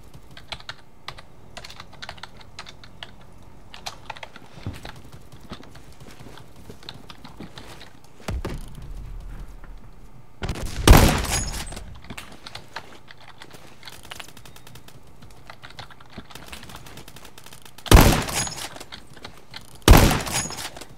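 In-game M231 firing port weapon gunfire comes in a few sharp bursts, around 11, 18 and 20 seconds, standing out over a constant low murmur of keyboard typing and game background.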